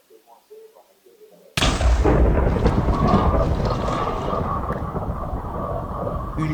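A lightning bolt strikes beside the player in Minecraft, landing as a sudden loud crack that rolls into a long, rumbling thunder roar after faint game sounds.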